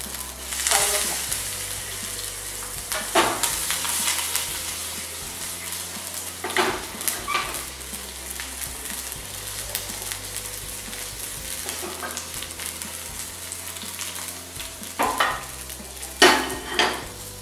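Steady sizzling and crackling of asafoetida and curry leaves frying in hot oil, with occasional stirring clinks and brief louder pops, continuous throughout.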